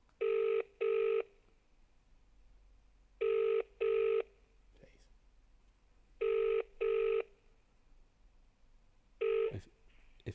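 A telephone rings out while waiting for an answer, a steady cadence of paired electronic ring bursts repeating four times with quiet gaps, clear and close.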